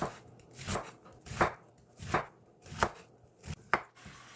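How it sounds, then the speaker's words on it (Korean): An onion being julienned with a knife on a cutting board for soy sauce bibim noodles: six distinct, fairly evenly spaced chopping strokes, close and crisp, with quiet gaps between them and no voices. "양파는 채 썰기를 해주세요."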